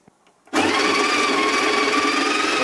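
The built-in grinder of a Breville Infuser espresso machine starts abruptly after a moment of quiet and runs as a loud, steady, high-pitched whir, straining as it grinds coffee beans.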